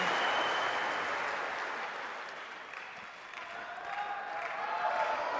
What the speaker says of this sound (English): Applause in the background, by the way, from Toby West, who's the performance analy